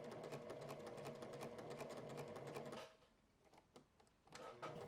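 A household sewing machine stitches a bias-cut fabric tie for a tiered skirt, a steady close mechanical whirr that runs continuously, then stops abruptly, leaving faint intermittent clicks and brief bursts of running.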